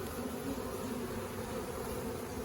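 A honeybee swarm being hived fills the air with dense, continuous buzzing from many bees, close and loud throughout, steady and unbroken, with no voices over it.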